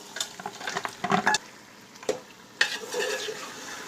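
Boiled mutton being fried in spiced masala for teh biryani, with a soft sizzle broken by sharp scrapes and clatters of a spoon against the pot, coming in irregular bursts at close range.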